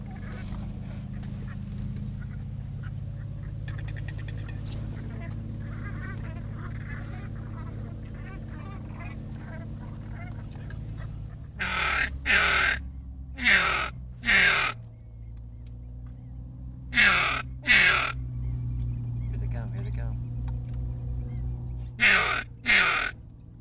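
Brant geese calling in a flock on a Mexican coast, a low murmur of distant calls followed by a string of loud, close, throaty honks in quick bursts.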